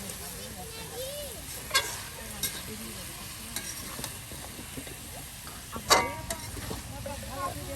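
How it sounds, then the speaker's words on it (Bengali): Hagra stalks sautéing with spices in a pan for hilsa curry, a soft steady sizzle with occasional scraping stirs and clanks while a person talks over it. "হাগরা ডাটা মশলার সাথে মিক্সড করে নিয়ে এখন এটাকে আরো সুন্দর করে কিন্তু কষানো হবে"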